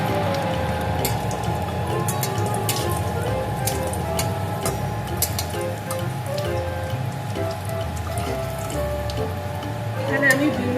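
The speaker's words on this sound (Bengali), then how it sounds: "এখন আমি বড়িগুলো ভেজে নেব। বড়িগুলো একটু লাল লাল করে ভেজে নেব।" Biuli dal bori, lentil dumplings, fry in hot oil with a dense, steady sizzle and crackle like rain on a surface, continuous and close throughout.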